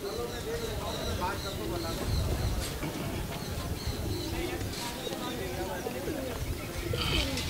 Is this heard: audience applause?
no